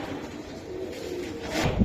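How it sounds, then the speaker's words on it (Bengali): A Giribaj racing pigeon coos softly against low background noise, the call rising more clearly near the end. "এই যে খুবই সুন্দর কবুতর বাঘা"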